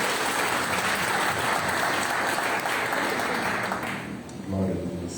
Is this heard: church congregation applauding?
yes